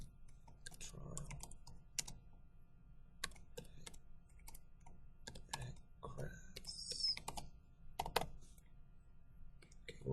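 Typing on a computer keyboard during a flood modeling session, with quiet bursts of key clicks close by. The taps come in irregular clusters with short pauses between them, and a faint voice is heard now and then.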